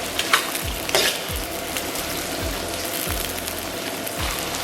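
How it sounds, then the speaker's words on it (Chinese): Chili sauce and bean paste with garlic stir-fry in a hot wok over low heat, a continuous bright sizzle with a few scraping stirs near the start and repeated low thuds throughout. "然后给它煸炒出红油。"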